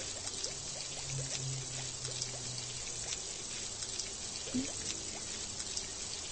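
Steady water pouring and trickling as a pickle is rinsed in the Sago Mini Road Trip kids' game, a continuous soft wash with small droplet clicks throughout, playing alone without talk.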